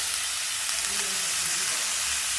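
Potatoes and garlic fry in oil over a medium flame with a steady, loud sizzle filling the whole stretch, faint stirring scrapes underneath.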